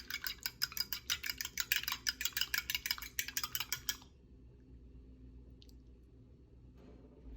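Two large eggs beaten in a bowl for challah dough, about four seconds of quick, rhythmic wet whisking strokes up close, then near silence.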